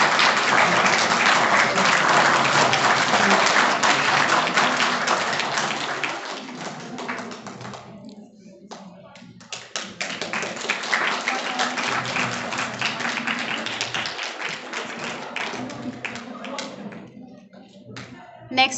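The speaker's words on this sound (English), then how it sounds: "A big round of applause." An audience at a women's day celebration ceremony claps in loud, sustained applause that fades midway, then swells again, with a voice speaking over parts of it.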